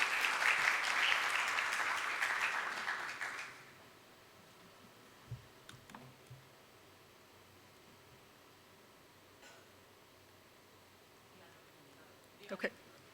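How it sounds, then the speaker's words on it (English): Audience applause at a responsible hoteliers summit panel welcomes a woman on stage, a dense burst of clapping for about three and a half seconds that cuts off into quiet room tone with a few small knocks. "Please, a warm round of applause to her."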